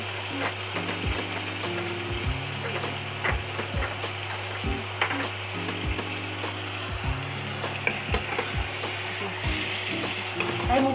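Onion paste and spices fry steadily in a pan with ridge gourd, giving a continuous close sizzle while a spoon scrapes and stirs in regular clicking strokes, with no talking.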